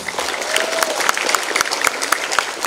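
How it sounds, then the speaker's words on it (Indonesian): An audience at an Indonesian Independence Day flag ceremony at an Islamic boarding school applauds the flag-raising team, dense steady clapping from a large crowd that holds loud throughout, with a few sharper claps standing out. "Tepuk tangan buat mereka."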